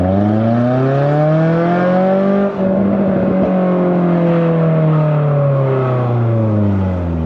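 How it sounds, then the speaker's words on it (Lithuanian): A small car engine revs hard, its loud, steady harmonic drone climbing and easing back over several seconds, close and continuous with no talking. "Tikiuosi, jums puikiai girdisi, kaip dirba šias varikliukas, nes dabar parodysiu, kaip atrodo ribotuvas"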